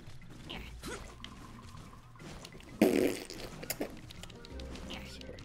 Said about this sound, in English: That's what I imagine the sound is when his eye comes out of his head.